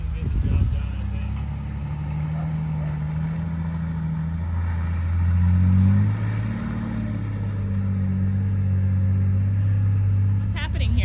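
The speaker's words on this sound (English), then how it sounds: "my friend Pat just built this Jeep and he's gonna help pull me out." Jeep pulling a stuck truck free from wet grass, a loud steady engine rumble that swells in the middle and holds as it strains, with a person speaking over it.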